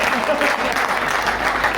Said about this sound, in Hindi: अब तो ताली बजा दो तुम